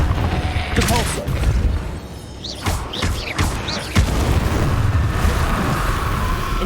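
In Hogwarts Legacy, the Repulsor spell releases sharp, booming blasts amid busy combat effects. Several loud impacts land about a second or more apart over a dense, rumbling game soundscape.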